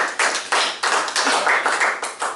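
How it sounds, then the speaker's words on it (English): A church or conference audience claps in a steady, fairly close burst of applause lasting a couple of seconds, with individual hand claps clearly distinguishable in an even rhythm and no talking. "you guys are clapping too soon"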